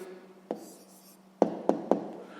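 Pen on paper while writing down the answer to a sixth-grade maths exercise: a faint scratchy stroke, then three sharp taps close together, near and quiet with no talk.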